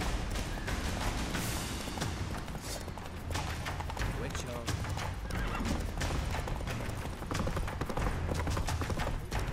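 A horse gallops with rapid, loud clip-clop hoofbeats and lets out whinnying neighs in the video game The Witcher 3, with game music and voices speaking over the hooves.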